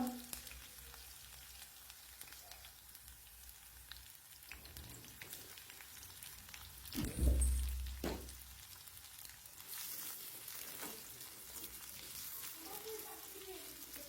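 Green chilies, garlic and onion fry in oil for a bhindi dish, a faint crackling sizzle with a louder thump and clatter midway, then quiet steady frying that continues to the end.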